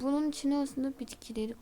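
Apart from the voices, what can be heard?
No everyday noise stands out behind the speech.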